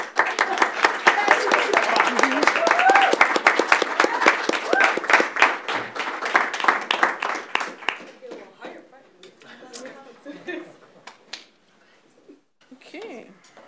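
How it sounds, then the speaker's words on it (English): A room at a board of education meeting breaks into steady applause that holds strongly for about eight seconds, then thins into scattered claps and faint talk. "I'm going to clap"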